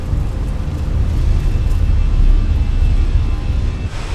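An airliner's engines roar loudly during the takeoff roll and rotation in a flight simulator, holding a dense, steady rumble throughout, with no talk.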